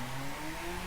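A BMW Z4 sDrive35i engine in the racing game The Crew on the Pikes Peak climb, holding a steady mid-pitched drone with rising harmonic tones as it revs continuously at close range.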